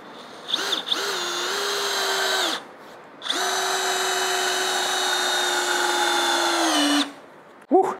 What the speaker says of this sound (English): We're gonna go and send them through the 2x4 down into the other 2x4s.